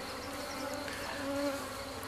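Honey bees buzz steadily around a queen bee cage while a hive is being set up, a close, continuous hum with no talking.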